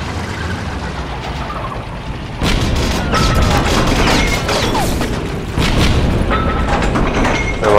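A tank cannon fires in the Heroes and Generals video game with a heavy boom that cuts in sharply, then rumbling impacts and mechanical clatter. A second loud blast comes near the end over steady engine noise.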